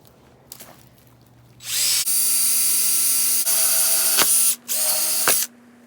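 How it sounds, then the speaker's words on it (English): A power drill whirs loudly at high speed in sustained bursts, briefly stopping and restarting, close up with no talking. "So I'm gonna start drilling."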